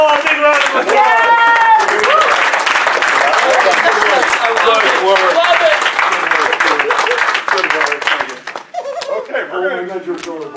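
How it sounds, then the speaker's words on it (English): A crowd at a furry convention event gives loud, sustained applause mixed with cheering, whooping voices and laughter, thinning out near the end as talking resumes. "give them all a big round of applause"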